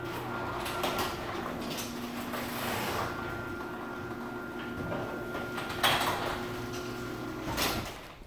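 A Whisper Drive garage door opener runs as the door closes, giving a steady low motor hum with a faint whine and rattle throughout, ending in a brief clunk.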